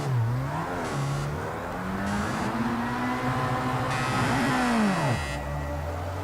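Race car engines in Project CARS 2 rev and climb in pitch at the start of a race, a continuous droning whine that rises and drops with gear shifts.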